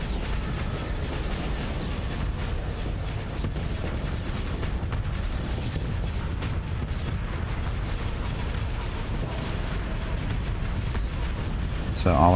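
Torpedoes slam into an enemy ship in the space combat game Starsector, a dense continuous rumble of impacts and explosions lasting throughout, loud and sustained, ending in a sharper burst.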